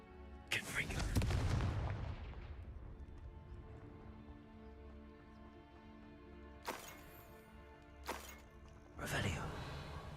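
Confringo blast spells in Hogwarts Legacy: one big booming explosion rolls out and fades, followed later by a couple of sharper bursts and another boom, set over a steady low game background.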